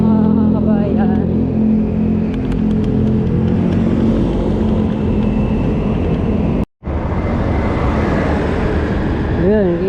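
Car drives over a rough, damaged stretch of EDSA, with a steady engine hum and rumbling road noise, a brief dropout partway through and a voice speaking over the drive.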